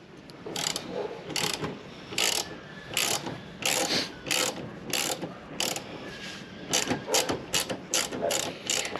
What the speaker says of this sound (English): We have to take out also the remaining bolt with a tube key